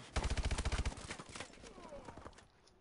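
Automatic gunfire in the video game Call of Duty Advanced Warfare, a quick burst of about a dozen rapid shots followed by quieter game noise, with a voice talking faintly underneath.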